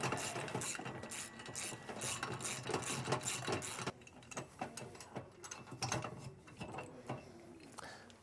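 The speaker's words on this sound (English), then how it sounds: "we're going to have to take the adjuster lever off. It's two 10mm bolts." Two 10mm bolts being loosened and backed out of the jack adjuster lever on the underside of a fifth-wheel camper, with steady clicking ratchet and metallic tool clatter running throughout, busier in the first half and sparser afterward.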